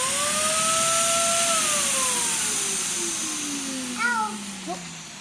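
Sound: Shark vacuum cleaner running with clogged hose

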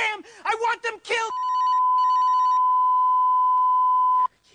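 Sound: mobile phone ringing on a film set

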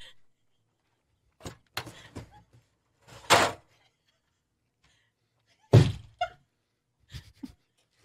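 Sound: door being kicked

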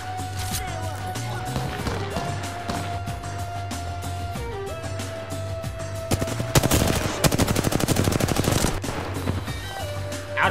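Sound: gunfire in a video game

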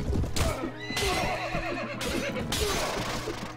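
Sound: horse neighing in video game Mount & Blade Warband

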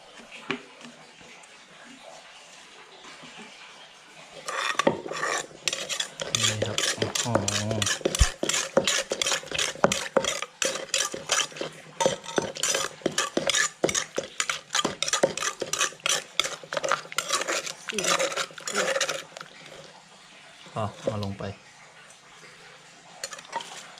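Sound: stirring boiled fermented fish sauce in a pot

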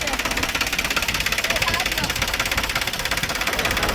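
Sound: tractor engine running

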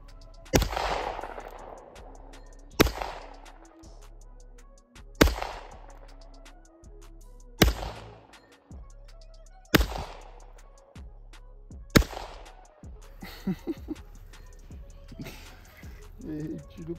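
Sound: gunshots fired at a bowling ball

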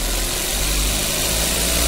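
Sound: Maruti Suzuki Ignis engine revved to warm up

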